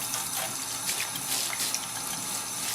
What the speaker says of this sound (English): I'm going to rinse a little bit more from the back.